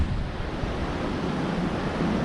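High water washes against a rocky shore in steady, loud surf, a continuous rushing roar of waves mixed with wind buffeting the microphone, no voices.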